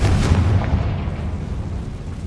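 Confringo fire-blast spell explosion in the video game Hogwarts Legacy, a loud, sustained rumbling roar with heavy low-end that fills the whole moment without fading.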